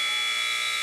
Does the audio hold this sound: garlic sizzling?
no